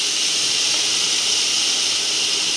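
Raw mango paste for a sweet pickle sizzling in hot oil, a loud, steady, dense hiss that stays close and continuous throughout.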